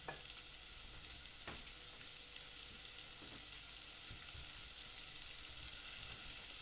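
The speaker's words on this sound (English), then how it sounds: "Just stir them around, make sure they're coated with the oil." Onions frying in oil on a stovetop, a steady bright sizzle running throughout with a few soft scrapes and clicks as they are stirred around the pan, close and fairly quiet with no talking.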